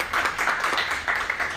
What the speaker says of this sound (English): Let's give a round of applause to our Director of Finance and Operations candidates.